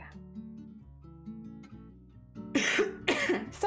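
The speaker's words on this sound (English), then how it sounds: "I'm still coughing a lot" Two or three harsh coughs close to the microphone, following a stretch of soft background music.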